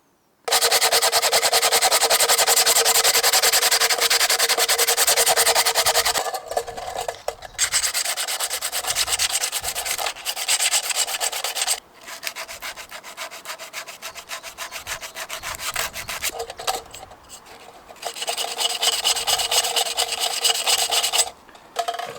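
Sandpaper rubs hard and fast against a rusty oil lantern, scuffing the metal before painting, in loud continuous rasping strokes broken by a few short pauses.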